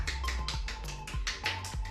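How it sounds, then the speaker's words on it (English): Hand claps and pats on the body during a seated desk stretching routine, about eight soft, evenly spaced slaps in a steady rhythm, close and moderately loud. "give it a little clap"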